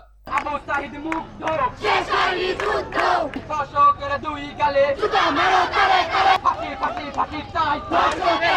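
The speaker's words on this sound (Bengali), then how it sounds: "পরে সেখানে অবস্থান করে বিভিন্ন স্লোগান দিতে থাকে শিক্ষার্থীরা।" Students at a protest march chant slogans together in a loud, rhythmic crowd, voices rising and falling in repeated bursts close by.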